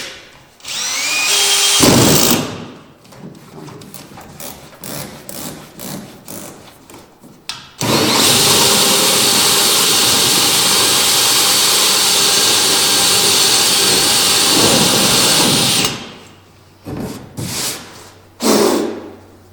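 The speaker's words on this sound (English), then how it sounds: "Make sure when you drill this that this piece does not fall inside your tank" A power drill whirs in short bursts, then runs loudly for several seconds in one long steady grind through a trailer tank wall before stopping, followed by brief clicks.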